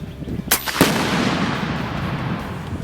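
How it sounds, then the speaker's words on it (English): A .25 caliber Samyang Sumatra airgun fires at an explosive tannerite target 150 feet away. A sharp crack and a second burst are followed by a long, rumbling decay that fades slowly. "the target is 150 feet with an explosive tannerite backing"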